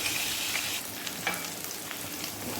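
A steady, close sizzle of butter and finely chopped garlic frying in a pan, with faint stirring scrapes and no talking.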